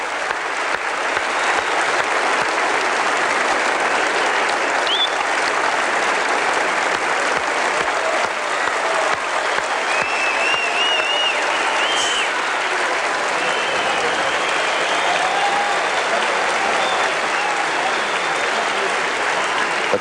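A large arena crowd at the 1982 Commonwealth Games weightlifting gives sustained, loud applause and cheering for Australian lifter Dean Lucan, a dense unbroken roar of clapping lasting about twenty seconds.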